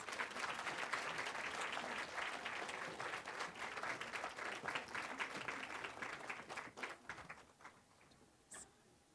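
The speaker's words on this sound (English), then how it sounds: "if we can give them a round of applause" Sustained audience applause at a nursing school white coat ceremony, dense clapping from a crowd that holds steady and then thins into scattered claps toward the end.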